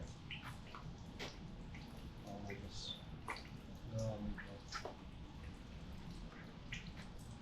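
Fluid drips and trickles into a drain tray beneath a Foxbody Mustang as the engine and transmission are drained during removal, a steady patter of close, irregular drops continuing throughout.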